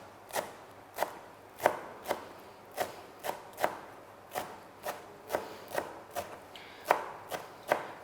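A knife chops fresh coriander on a board in steady, crisp strokes, about two per second, close and clear with no talking.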